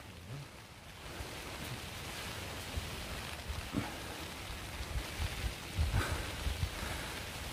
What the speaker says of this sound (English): out there in the pouring rain